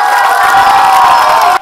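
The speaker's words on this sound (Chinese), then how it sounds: "现场尖叫声连连" Students crowded into a school basketball meet-and-greet with a Taiwan Beer SBL team scream and cheer together, a loud, sustained shrill roar that holds steady and then cuts off abruptly.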